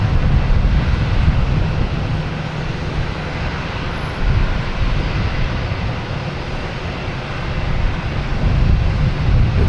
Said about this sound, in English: Next to come in will be United Airlines and a 737 MAX 9 coming in from San Francisco.